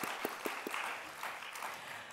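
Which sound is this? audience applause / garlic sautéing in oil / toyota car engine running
audience applause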